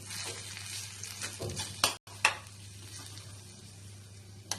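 Wheat bread upma stirred with salt in a pan, giving soft scraping and light sizzling under a steady hum, with a couple of sharp clinks from the spoon against the pan.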